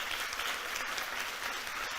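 Audience clapping for a student family at an AI summit, a dense, even burst of applause at moderate distance lasting a couple of seconds.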